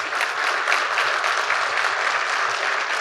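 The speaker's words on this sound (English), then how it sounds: "Another round of applause for Chip." An audience applauds after a conference talk on AI engineering anti-patterns, a dense, steady wash of clapping hands filling the room at moderate volume throughout, with no voices over it.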